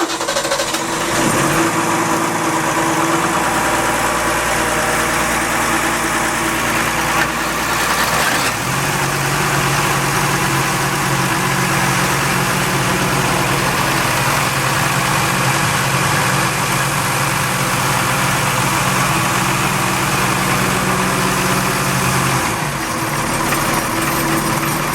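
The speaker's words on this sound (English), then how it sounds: "Let's hear the motors run while we're in here." Twin Ford Lehman marine diesel engines on a Grand Banks 36 boat, cold after a month unused, crank and fire up, then settle into a steady, loud idle with a low rumbling drone that runs continuously.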